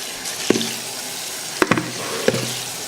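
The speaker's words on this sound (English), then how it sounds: "now I will put water inside here to clean out some of the excess puree" Water poured into a pot or bowl to rinse leftover pepper puree while cooking Cameroonian/Nigerian pepper soup with plantains; a few brief splashing pours and clinks sound close by, with no talk.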